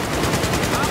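Rapid automatic gunfire from the Battlefield 4 video game, a dense, continuous burst of shots at close range filling the whole moment.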